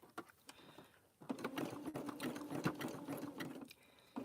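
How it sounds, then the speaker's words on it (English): A sewing machine stitches a fabric-wrapped rope bowl wrapped in batik fabric, starting with a few short bursts and then running in a steady rapid mechanical whirr for a couple of seconds before stopping, close and fairly quiet. "I have my sewing machine."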